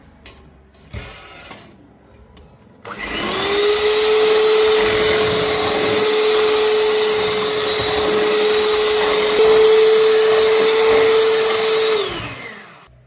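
An electric beater whisks eggs for birthday cake batter, starting after a few faint knocks and then running as a loud, steady whirring hum with a constant tone for about nine seconds before winding down.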